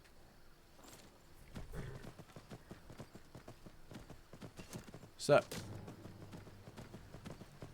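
Horse hooves clip-clop steadily in the video game Skyrim, quiet and fairly close, with a brief louder thump midway and a voice talking over the hoofbeats.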